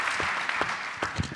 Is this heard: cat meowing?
no